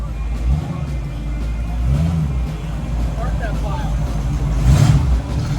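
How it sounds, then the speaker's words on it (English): A small pickup truck's engine rumbles steadily as it rolls in at a car cruise, building slightly toward the end, with people talking faintly over the motor noise. "Check out this little pick-em-up truck coming in."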